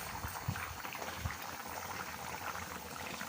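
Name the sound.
chicken curry simmering and boiling in the pot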